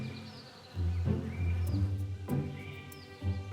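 Bees buzzing near a nest in the wild, a loud, close drone that swells and fades in waves with faint bird chirps behind.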